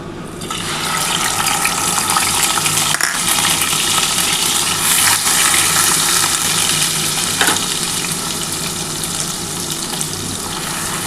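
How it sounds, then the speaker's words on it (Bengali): Ground onion paste dropped into hot oil with whole cumin and two cardamom pods, giving a loud, steady sizzle and hiss that continues throughout with no voices. "এই পেঁয়াজটা আমি দিয়ে দিচ্ছি।"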